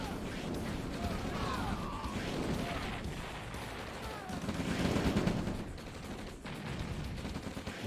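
A busy OpenRA Red Alert battle with rocket fire and tank combat, dense crackling volleys and bursts of gunfire running continuously under a commentator's voice.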